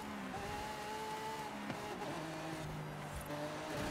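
A Lamborghini driven in Forza Horizon 5, its engine droning steadily as the revs rise and fall, with sharp knocks and some tire noise along the way.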